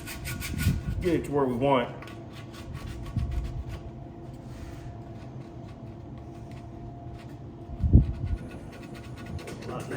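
Close-up rasping and rubbing as Bondo body filler is worked by hand with 80-grit abrasive on a 1958 Panhead chopper gas tank, in uneven strokes with a person speaking over parts of it.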